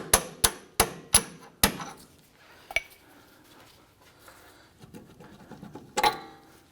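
Sharp metallic hammer strikes on a punch driving a bolt out during a front CV axle replacement on a 2004-2008 Acura TL, five quick ringing blows in a row followed by a few scattered clanks and knocks.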